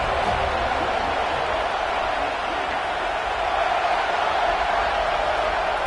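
At a college football game, a packed stadium crowd roars in a constant, loud, even wall of noise that holds without a break for the whole stretch.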